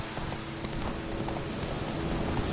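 Roach the horse's hooves clip-clopping in a video game, a quick steady run of close hoof beats with no talking.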